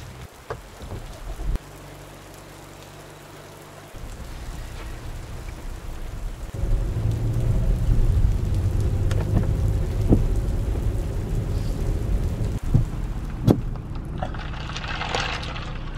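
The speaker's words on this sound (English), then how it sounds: "Got a little bit of rainy, cloudy, rainy action. Rain action." Steady rain pours outside, a dense hiss with scattered drips and occasional low rumbles, growing heavier partway through.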